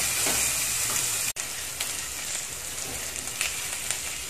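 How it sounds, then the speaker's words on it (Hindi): Onions sizzle in hot olive oil in a pan for a mushroom soup, giving a steady crackling fry close by with a brief clatter of stirring partway through. "ऑयल हमारा गर्म हो गया है तो मैं यहाँ अनियंस ऐड कर रही हूँ।"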